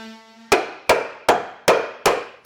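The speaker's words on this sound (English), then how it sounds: "grab a wood block and hammer the wood block" A hammer strikes a wood block held against a metal bracket on a 2023 Toyota Tacoma side-step install, giving five loud, sharp knocks at an even pace, each ringing briefly before the next.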